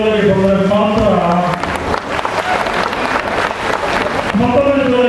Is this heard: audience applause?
yes